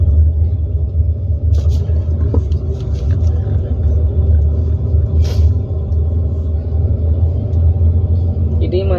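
A manual car is driven in second gear, its engine giving a steady low rumble with road noise throughout, and a faint voice talks over it.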